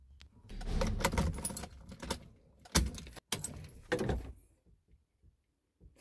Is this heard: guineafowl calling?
no